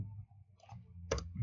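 Two quick computer mouse clicks, a double-click made while working in an Excel spreadsheet, land as a sharp close pair under low background hum.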